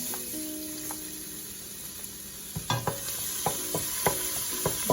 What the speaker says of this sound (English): The garlic needs to be brown first before you have to add the ginger root.